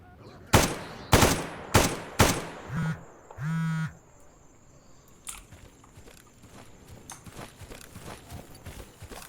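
Four sharp shots ring out from a pistol in the video game Escape From Pripyat, evenly spaced and loud, followed by two shorter bursts and then a quieter stretch of low background noise.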